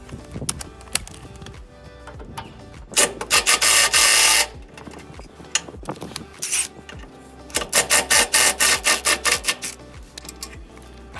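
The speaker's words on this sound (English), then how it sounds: "This is a 17 mil impact bit." A 17 mm impact socket on an impact tool removes the tow point bolts of a 2020 Mitsubishi Pajero Sport GLS QF, giving two loud rattling bursts of a second or two each, with lighter clicks and scraping between them.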